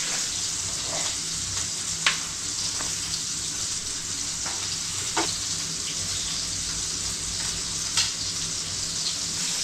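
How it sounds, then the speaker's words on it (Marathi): Chicken sizzling and frying in a pan at a roadside dhaba kitchen, a steady close hiss with a few sharp clinks and stirring knocks. "आणि आता इकडे चिकनचे पण फूड फ्राय होतात आहे"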